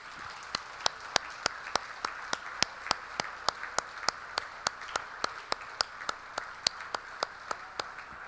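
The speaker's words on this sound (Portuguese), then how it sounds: "Um louvor de palmas para o nosso Deus." Church congregation at a Sunday evening worship service clapping hands in unison, a steady, evenly spaced beat of sharp claps continuing for several seconds, moderately distant and fairly quiet.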